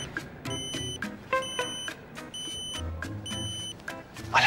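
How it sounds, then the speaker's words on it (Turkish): An electronic alarm sounds in repeated beeping bursts at an even pace, mid-loud, over a busy background with thumps and rustling. "Alarm çalıyor, geliyorlar."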